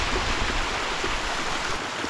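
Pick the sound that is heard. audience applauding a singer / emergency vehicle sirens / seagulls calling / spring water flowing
spring water flowing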